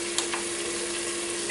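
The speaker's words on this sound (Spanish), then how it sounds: "damos unas vueltas para que empape y se sofría" Rice with fish sofrito frying in a GM G electric cooker pot while being stirred, a steady close sizzle with a couple of brief scraping strokes and no voices.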